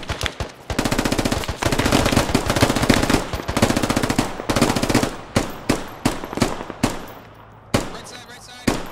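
Video game gunfire: a loud rapid automatic burst lasting several seconds, followed by a series of separate single shots at an uneven pace.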